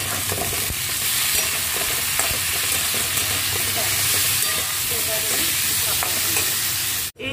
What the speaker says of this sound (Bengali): নিয়ে নুন হলুদ দিয়ে আমি ভেজে দিই